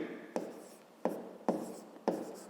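Pen strokes writing out a math solution on paper, four distinct quick scratching strokes spaced irregularly, close and quiet with no talk.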